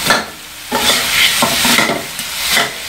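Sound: stir-frying salty chicken until the oil dries

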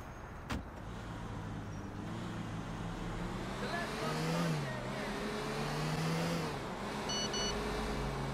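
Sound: car driving in video game GTA 4

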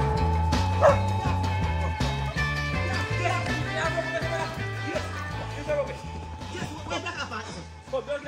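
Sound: hunting dog barking during wild goat hunt

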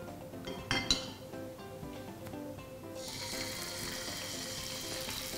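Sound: salmon frying skin side down in hot oil

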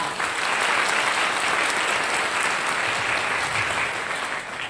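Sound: audience applause welcoming a speaker

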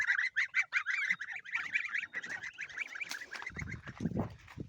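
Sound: goose honking

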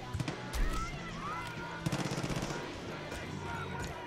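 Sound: gunshots from video game Far Cry 5

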